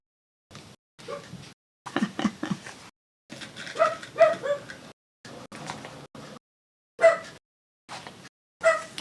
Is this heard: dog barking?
yes